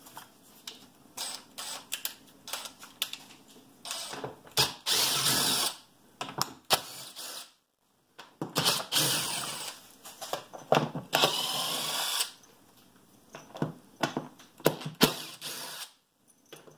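A power drill backs screws out of the form boards around a cast concrete countertop, in repeated loud whirring bursts with ratcheting clicks between them and short pauses.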